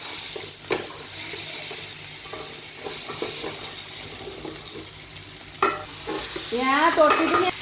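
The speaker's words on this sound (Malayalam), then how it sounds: "ഇനി ഒരു പാന് ഗ്യാസിൽ വെച്ചിട്ട് ഇനി നമുക്ക് ഈ മീനെ അപ്പുറം ഒന്ന് പൊള്ളിച്ചെടുക്കാം." Fish fries in a pan on a gas stove, with a continuous soft sizzle close by, a few light clinks, and louder bubbling, spattering bursts near the end; no one speaks.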